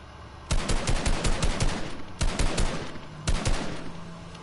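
Rapid bursts of pistol fire in the Fortnite video game, loud and close, coming in quick clusters of shots with short gaps between volleys and no talk over them.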